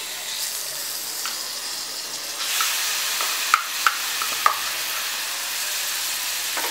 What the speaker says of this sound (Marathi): तूप तापल्यावर त्यात आपण घालूया किसलेलं बीट.